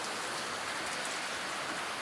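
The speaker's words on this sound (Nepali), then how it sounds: "हेर्नु चाहिँ पानी बेसी पर्दैछ।" Rain falls steadily on a village, a dense, even hiss of drops hitting surfaces close by, continuous throughout with no voices.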